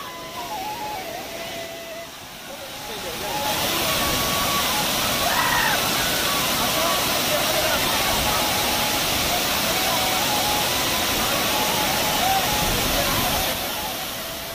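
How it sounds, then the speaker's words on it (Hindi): Latif Shah waterfall in monsoon season, a steady broadband rush of falling water that swells after a few seconds and holds loud and continuous, with faint voices in the background. "ये जो सुंदर वाटरफॉल है ये मानसून के समय में ही जमता है"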